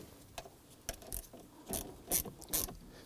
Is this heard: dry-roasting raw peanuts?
no